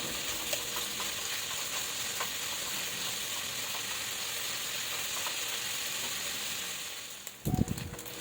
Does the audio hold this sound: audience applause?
no